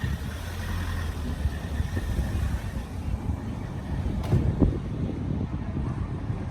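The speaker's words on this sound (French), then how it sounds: "un moteur 1600 que j'ai refait" A blue Alpine sports car with a rebuilt 1600 engine runs at a low, steady rumble outdoors, with wind buffeting the microphone and a brief sharper burst partway through.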